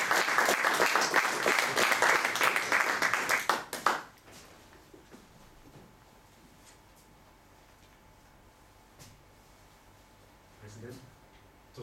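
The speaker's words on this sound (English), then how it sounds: "round of applause for Oscar Savarino." Warm applause from a Toastmasters audience for a speaker fills the first four seconds, then cuts off to a quiet room with only faint low murmurs and a brief soft stir near the end.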